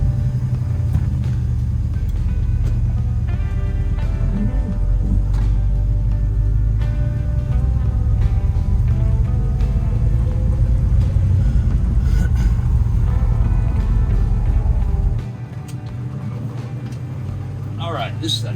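A 1960 Rambler station wagon fitted with an LT1 small-block Chevy V8 and 700R4 transmission drives along, its low engine rumble steady and loud inside the cabin, with a voice talking over it before the drone drops off near the end.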